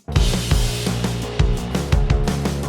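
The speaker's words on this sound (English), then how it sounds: "So that kick layered in there sounds like this." Punchy layered kick drums thump in a steady pattern under a dense mix of cymbals and synth tones in an alternative rock song, deep and close.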